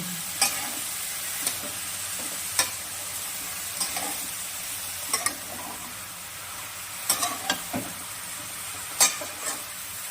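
Chili and onion pieces stir-fried with katla fish pieces in hot oil, a steady sizzle under scattered scraping taps of a spatula stirring the pan, close by.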